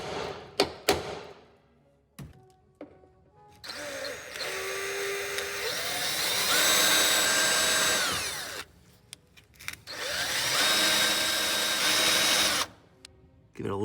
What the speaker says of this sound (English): instead I'm going to use this step bit. It should also get the job done.